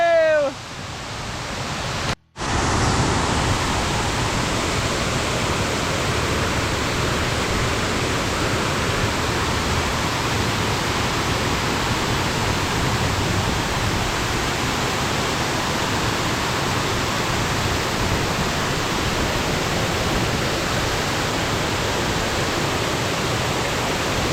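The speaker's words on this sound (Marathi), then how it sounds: "कसं पाणी पडतंय बघा हे बघा डोंगरात हो का डोंगरातनं मोठं ते मोठं झर येतं बघा" A mountain waterfall pours in a loud, steady roar of rushing water that fills the whole stretch, after a brief bump and pause at the start.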